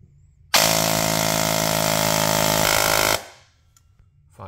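A Project Icarus DSG foam blaster tuned to 68 rounds per second fires one sustained full-auto burst of about two and a half seconds. It gives a loud, dense, buzzing motor-and-gear roar that cuts off sharply into near silence.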